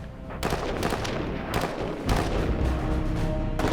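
An M16 assault rifle fires loud, sharp shots in quick automatic strings, dense overlapping reports with brief gaps between bursts.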